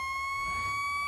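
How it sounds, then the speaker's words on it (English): A fire ladder truck's siren in the firefighting video game Into the Flames wails as a steady, loud electronic tone with bright harmonics. It holds continuously throughout, with no talking over it. "Siren."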